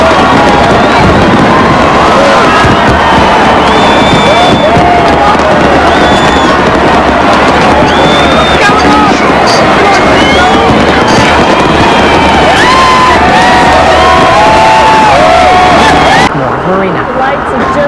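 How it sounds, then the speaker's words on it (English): Fireworks over the Brisbane River at a 1999 New Year's Eve celebration crackle and pop amid a loud, dense crowd roar with cheering and chatter, continuing nonstop before dropping away near the end. "Looking at the fireworks there on the banks of the Brisbane River"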